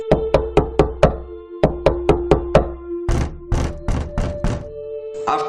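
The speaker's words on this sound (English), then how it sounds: "After 3 times of knocking" Knuckles rap on a wooden door of a run-down house with a partly broken ceiling, in three separate bursts of four or five sharp, close knocks with short pauses between.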